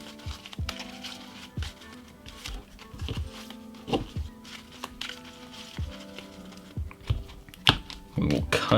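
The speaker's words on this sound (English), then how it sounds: "let's start shuffling the deck." A deck of Yu-Gi-Oh trading cards being shuffled by hand, with repeated soft riffling and flicking bursts at close range and a rising clatter near the end, under quiet background sound.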